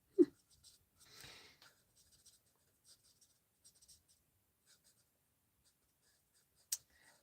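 Pens colouring a handmade Mother's Day card, with faint, sparse scratchy strokes and light taps close up, and one sharper knock near the end, in a quiet room without talk.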